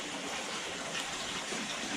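Rushing whitewater pours steadily at a seven-metre rafted waterfall in New Zealand in the rain, a dense, continuous broadband roar with no talk over it.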